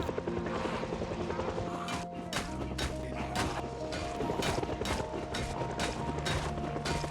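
A helicopter flies overhead in the video game Project Zomboid, its steady rotor thrum running throughout with sharp impact hits and clatter over a layered game soundscape.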